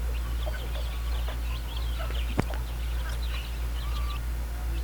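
Chicks and chickens in a pen on a small poultry farm give scattered faint clucks and chirps over a steady low hum, with one brief sharp knock near the middle.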